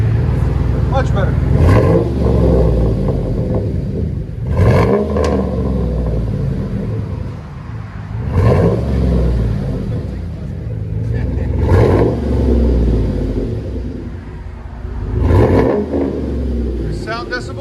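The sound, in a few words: V8 pickup truck exhaust revving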